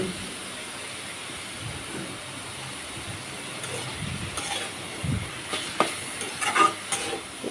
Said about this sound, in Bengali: আলুটাও কিন্তু আমি তেলের উপরে ভেজে নিচ্ছি